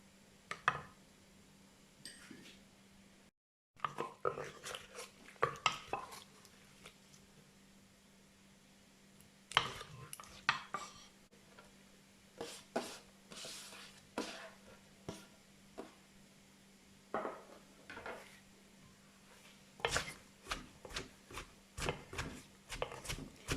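Utensils scrape and clatter against a dish while som tum, Thai papaya salad, is being mixed, coming as a long run of brief, irregular clinks and knocks over a quiet background with no voices.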